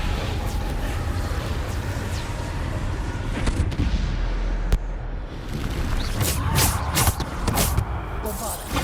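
Bombarda spell blasts in Hogwarts Legacy burst out as heavy booming impacts and crackling debris over a constant rumble, with several sharp hits and rattling clatter toward the end; a player speaks briefly amid the din.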